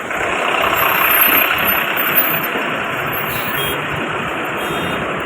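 A bus engine rumbles and idles steadily close by at a busy bus stand in Alibag, a loud continuous drone with a brief bump midway and no speech.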